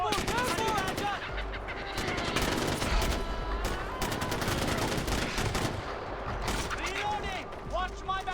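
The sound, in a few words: gunfire in the video game Far Cry 4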